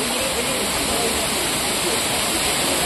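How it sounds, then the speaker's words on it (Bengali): Waterfall in Purulia cascading down in tiers into a lake, a loud, unbroken rushing roar of falling water filling the whole moment. "দূর থেকে একদম নেমে নেমে আসছে ঝর্ণা।"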